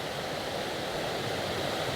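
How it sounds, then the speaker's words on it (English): A river flows past rocks in a natural landscape, giving a steady, continuous broadband rush of moving water that stays even and close throughout, with no voices. "You got the river flowing through."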